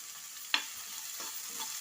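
Onions frying with salt in a pan for a beans curry, a steady soft sizzle with one brief clack of a stirring spoon, close and fairly quiet.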